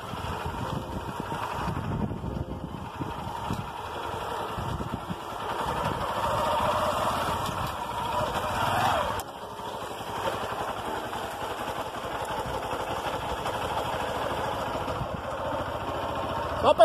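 A motorcycle engine runs steadily while riding along a rural dirt road in Riachão, Itagibá, Bahia, a continuous mid-pitched drone with wind rumble over the whole stretch.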